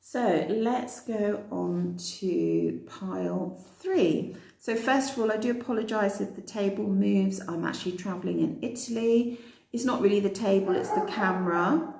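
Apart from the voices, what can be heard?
No everyday noise stands out behind the speech.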